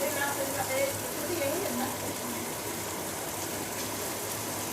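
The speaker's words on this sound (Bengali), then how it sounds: "এবার মাছ দিয়ে দিচ্ছে।" Rita fish going into a pan of cooked-down spice masala, giving a steady, fairly quiet sizzle of frying that holds evenly throughout with no talking.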